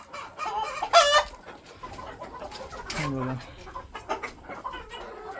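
Desi country chickens cluck around a farm flock of about 300 birds in an open netted half-acre yard, and a rooster crows loudly once midway. Someone talks briefly over the steady background clucking.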